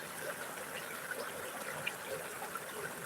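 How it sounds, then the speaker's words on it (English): Faint, steady trickle and wash of river water at dusk, soft and continuous with small splashy ticks, no voices. "when you're down by the river"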